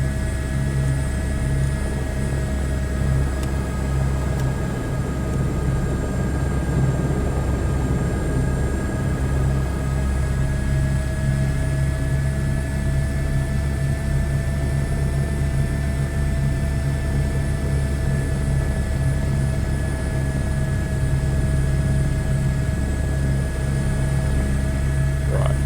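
A steady, droning helicopter engine and rotor hum with sustained tones holds at constant loudness throughout, like a helicopter powering up for takeoff on a scenic Lahaul and Spiti loop flight, with no speech.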